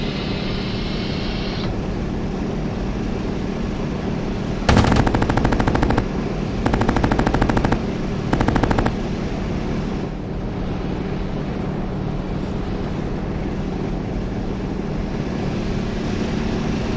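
Anti-aircraft flak fire in the video game Battleground Europe comes as three rapid, loud bursts of repeated shots over a constant roar of wind and engine noise.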